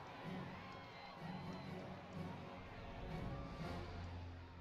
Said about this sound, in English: So everyone's cheering.